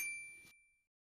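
Single bright notification ding with a metallic ring that fades quickly into silence.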